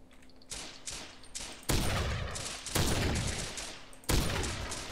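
Gunfire in the DayZ video game, several loud bursts of rapid shots in quick succession with rattling echo tails, close and dominant, no talking.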